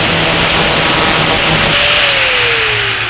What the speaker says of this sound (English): Me, I got this True Point tungsten sharpener, so sharpens it quick,